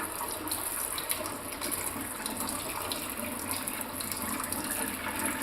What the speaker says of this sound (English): I'm going to rinse the roots really well.